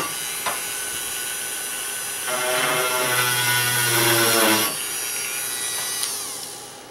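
A small power drill whirs steadily, its pitch rising and grinding for a couple of seconds before spinning down, close and without any voices, while drilling a divot in an IBM Model M keyboard from 1989.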